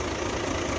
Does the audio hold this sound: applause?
no